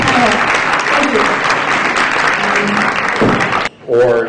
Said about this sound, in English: please give a round of applause to the councillors and council candidates for the panel